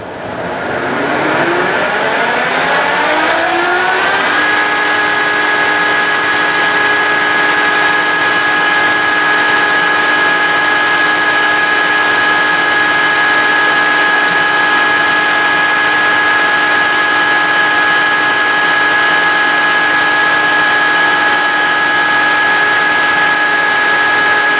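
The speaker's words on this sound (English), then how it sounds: "So what I'm going to do, I'm going to take a light skim cut." A metal lathe spins up and runs with a loud, steady motor whine during a light skim cut on a knurling tool part, continuing unbroken with no talk.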